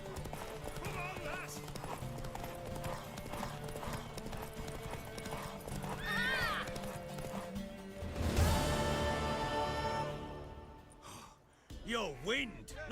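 Rapid hoofbeats of a horse in The Witcher 3: Wild Hunt clatter in a steady galloping rhythm beneath music and voices, with a snort and whinny near the end.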